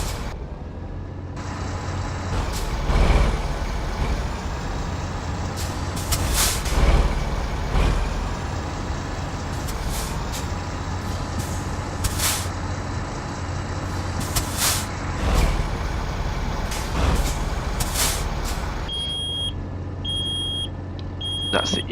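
Air brake pressure releasing on a truck in American Truck Simulator, a steady hissing rush under a low engine idle lasting through most of the stretch, with brief hiss bursts and a few beeps near the end.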